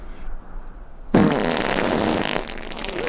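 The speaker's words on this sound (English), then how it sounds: "The farts are too much." A long, loud fart bursts in abruptly and rumbles on for over a second before trailing off, heard close and alone after a quieter start.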